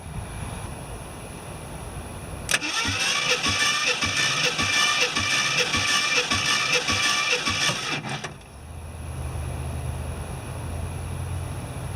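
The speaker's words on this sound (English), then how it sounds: "going to be checking the compression in all the cylinders. This will be cylinder 1." A 1973 AMC Javelin AMX engine cranks over on the starter during a compression test, a loud rhythmic chugging for about six seconds that stops abruptly, heard close amid quieter background noise.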